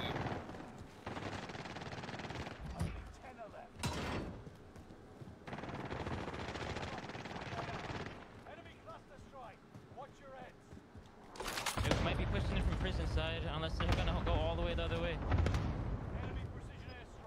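Gunfire from a multiplayer shooter video game crackles in repeated bursts and sharp blasts, with a heavy, loud stretch near the end, as players talk over the action.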